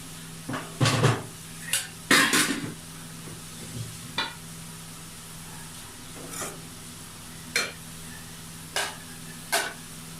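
Village-style dal cooks in a pot with a sizzling tadka while a utensil stirs and scrapes against the metal, giving scattered loud clanks and short scraping strokes over a soft, steady simmer.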